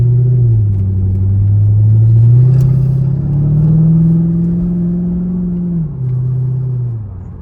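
C5 Corvette V8 engine warming up at idle, a deep steady rumble that rises slightly in pitch with a light rev then settles back, loud and close with no talking.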